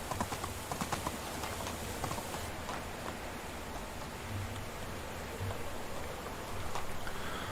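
A horse's hooves clip-clop at a steady walking rhythm in the medieval survival game Medieval Dynasty, heard close and moderately loud over soft rain-like ambient noise.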